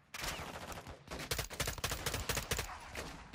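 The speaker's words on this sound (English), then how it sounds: "We're under some serious fire here." Gunfire in the Modern Warfare 2 (2022) campaign while pinned down by enemies, rapid overlapping automatic bursts and sharp cracks in quick succession, fairly faint overall.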